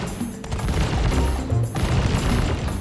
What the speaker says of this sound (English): I'm starting to shoot again.